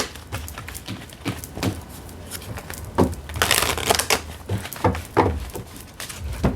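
Tarot cards being shuffled in several quick riffling bursts, close up, with soft rustles and snaps between them.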